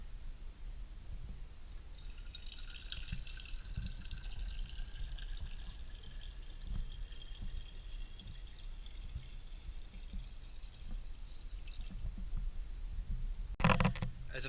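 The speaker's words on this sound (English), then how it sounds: "I'm going to slowly pour in water." Water pours slowly into a vessel holding a capacitor level sensor, making a soft, steady trickle and gurgle whose pitch slides as it fills. A brief knock sounds near the end.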